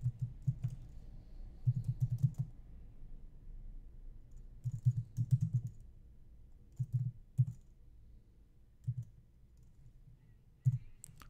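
Someone types code on a computer keyboard, a quiet, close run of soft key clicks in short uneven bursts separated by pauses, with no talking.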